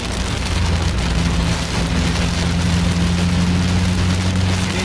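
Very heavy rain pounds on a moving bus in a dense, loud, unbroken roar, with a low engine drone and hum running beneath it, no pauses.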